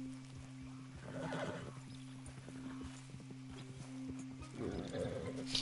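A horse in the video game Red Dead Redemption 2 whinnies and snorts over a low steady hum, with faint hoof clip-clops scattered through and a second neigh near the end.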